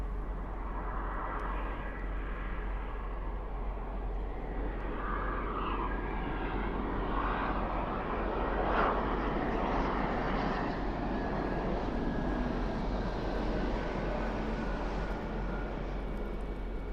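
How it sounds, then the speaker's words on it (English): Airliner approaching to land at Toronto Pearson airport, a steady distant engine drone building slightly and peaking mid-way, heard over constant background rumble with no talk. "Oh, we got a plane coming in."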